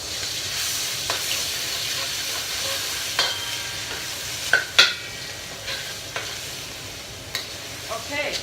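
Garlic sautéing in a hot pan for a Thai stir fry gives a loud, steady sizzle up close, with a few sharp clicks and scrapes from stirring scattered through it.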